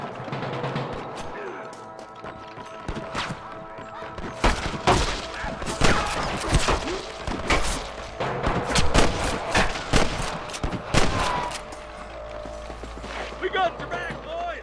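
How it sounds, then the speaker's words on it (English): Gunfire rings out in a Red Dead Redemption shootout as sharp shots crack in rapid, irregular bursts, some close and loud, others further off, with hoofbeats and game voices mixed in. "I can hear more gunshots."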